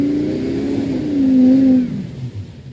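A Ford Excursion revs hard in reverse, its engine roaring loud and close as the throttle builds to a sustained peak and then drops back to a rougher, uneven idle.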